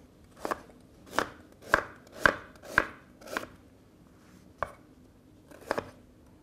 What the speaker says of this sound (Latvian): Un seleriju arī sagriežam nepārāk rupji, nepārāk smalki.